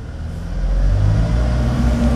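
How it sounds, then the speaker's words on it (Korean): A car engine drones loudly from inside the cabin during a driving lesson, its pitch rising and shifting as the gears change, steady and close with no talk. "자, 엔진 소리가 이게 엔진 회전 돌 때마다 엔진 소리가 시끄러워져."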